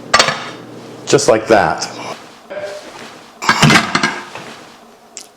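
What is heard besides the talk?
cake pan inverted onto a serving platter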